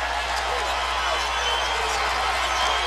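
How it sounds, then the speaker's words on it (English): Louisville fans jeer a Georgia Tech player in a college basketball arena at McCamish Pavilion. A constant, dense crowd din carries on beneath a commentator's voice. "You hear the Louisville faithful here letting him hear it."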